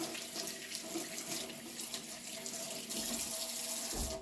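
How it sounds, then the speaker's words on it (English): Tap water runs into a sink as hands are rinsed in a home kitchen, a continuous close splashing hiss with a brief change in the flow near the end and no voices. "I'm just going to rinse off my hands real quick"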